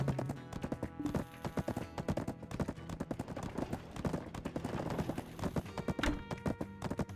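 Horse hooves clip-clop steadily in a multiplayer fantasy game, with repeated close hoofbeats over game music and ambient effects, and a brief whinny now and then.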